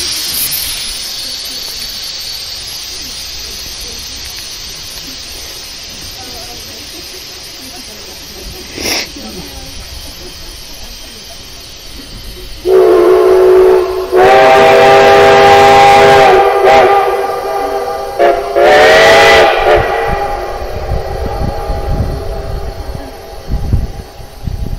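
Cumbres & Toltec steam locomotive preparing to depart, with a steady hiss giving way to loud, harmonic whistle blasts about halfway through, the second blast followed by another shortly after; voices talk faintly in the background.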